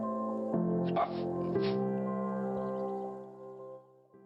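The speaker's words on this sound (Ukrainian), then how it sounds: "Пес із ДСНС Патрон інформує." A dog, a search dog used for detecting mines and explosives, gives soft yips and whimpering sounds close by, with short bursts near the start, over a steady harmonic background.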